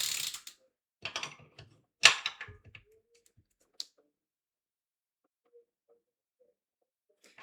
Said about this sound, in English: pretty much no issues using a 16mm wrench